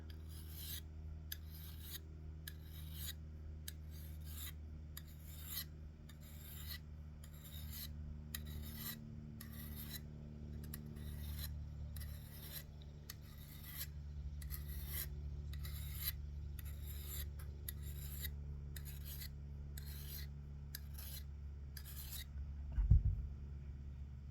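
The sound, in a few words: filing the edge of a knife blade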